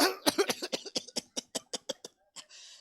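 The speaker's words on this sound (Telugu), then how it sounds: "దగ్గుతూనే ఉంటుంది ఆమె" A woman at a gospel healing meeting coughs in a rapid run of about a dozen harsh, close bursts that slow and weaken, ending with a short throat-clearing rasp.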